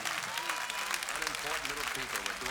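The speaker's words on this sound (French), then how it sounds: "Je vous demande d'applaudir s'il vous plaît la grimpeuse du sud de l'AS Grimpé, Clémentine Kaiser" Audience at a French bouldering championship women's final applauding a climber: dense, continuous clapping close and loud, with a voice talking over it.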